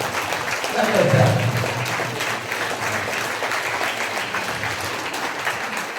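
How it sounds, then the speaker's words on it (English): A workshop group applauds its volunteers, steady dense clapping from many hands filling the room throughout, swelling slightly at first. "Give a big clap for all the volunteers in our group."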